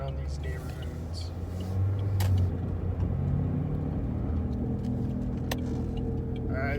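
A Saturn Ion car cruises at about 25 mph through a residential neighborhood, heard from inside as a steady low engine and road rumble with occasional light clicks and rattles, while a person talks over it.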